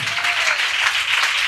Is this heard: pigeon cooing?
no